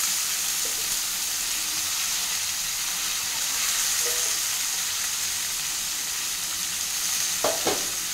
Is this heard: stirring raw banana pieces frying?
yes